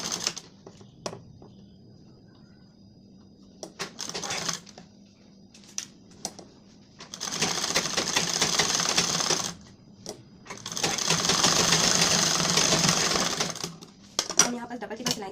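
Sewing machine stitching the sleeve seam of a four-tuck blouse, with short bursts early on and two long continuous runs of steady whirring in the second half, close and fairly loud, with brief pauses between.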